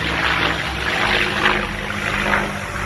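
Old airplanes pass overhead near an airport, a steady broad droning roar of engines and propellers at moderate distance, continuous throughout with no talk.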